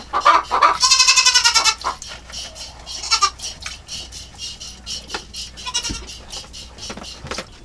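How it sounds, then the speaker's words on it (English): Goats bleat loudly and repeatedly up close during milking, a burst of overlapping cries followed by scattered quieter bleats and farmyard rustling. "the other goats are just patiently waiting for her to be done milking"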